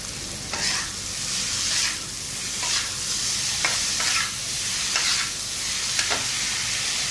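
Dried shrimp (jawla) sizzling steadily on a hot tawa, with a spatula scraping and stirring at intervals throughout.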